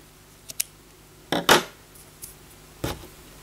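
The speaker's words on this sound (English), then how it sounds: "So I'm just going to trim them ends off because they're gross." Scissors snip the pumpkin-orange yarn ends off a crocheted chicken, a few quiet close snips in a row, one louder double cut in the middle and a last snip near the end.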